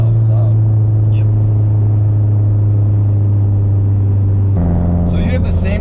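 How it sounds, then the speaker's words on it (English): A 2006 Subaru WRX STI idles with a steady loud engine drone, then a sharp blow-off valve whoosh and flutter bursts out near the end, close up, with people talking nearby. "that blow-up valve is loud."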